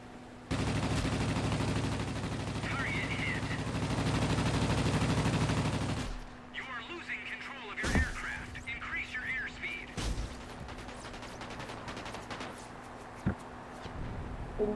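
A long, loud burst of aircraft machine-gun fire rattles continuously for several seconds in World of Warplanes, followed by quieter engine drone, scattered shots, and someone talking.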